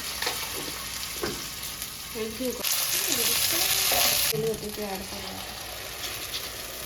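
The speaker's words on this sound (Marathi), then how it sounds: "1 चमचा तूप टाकले आणि आता मिरच्या टाकायच्या. लांब अशा हिरव्या मिरच्या कापलेल्या ते टाकले. लसूण पेस्ट टाकायची थोडीशी, 1 चमचा." Long green chillies and a spoonful of garlic paste frying in ghee for dhaba-style paneer, a steady close sizzle with stirring scrapes and a louder hissing burst midway, while someone talks over it.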